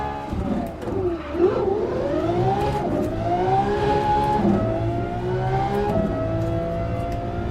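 A Lamborghini's engine revs and shifts in Assetto Corsa Competizione, a loud, close, continuous race-car drone rising and falling in pitch through several gear changes.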